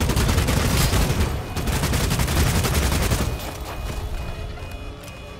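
Dense, loud automatic gunfire in the online shooter Bloodhunt, rapid bursts layered over one another up close, then thinning to scattered, somewhat quieter shots toward the end.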